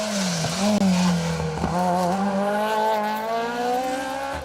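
A Citroen Saxo Super 16 front-wheel-drive rally car with a sequential gearbox and a 1600cc engine races past on an asphalt rally stage, its loud engine note rising and falling with gear changes and throttle lifts as it goes by.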